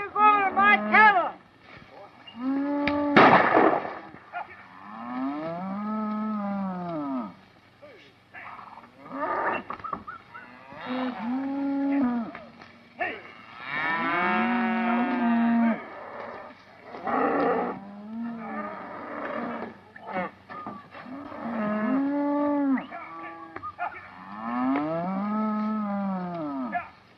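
Cattle low and moo repeatedly in a 1936 Western film, long drawn-out calls overlapping one another at moderate distance, with a sharp knock partway through.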